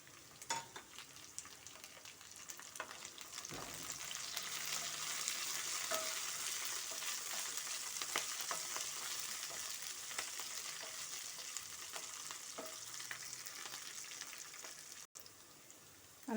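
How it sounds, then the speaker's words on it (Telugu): Green chilies and dry red chilies frying with onions in a pan: a steady, close hiss and crackle of hot oil that runs throughout, with occasional stirring clicks and no talk. "మనకి ఆనియన్స్ వేగినాయండి. పచ్చిమిర్చి, ఎండుమిర్చి వేస్తున్నాను."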